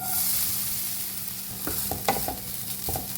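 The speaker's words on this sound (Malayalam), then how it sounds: "ഇത് നന്നായിട്ടൊന്ന് ഗോൾഡൻ ബ്രൗൺ ആവുന്നത് വരെ ഒന്ന് വറുത്തെടുക്കുക." Steady sizzling of grated coconut and garlic frying in oil toward golden brown, with occasional stirring scrapes and clicks of a utensil against the pan, no voices.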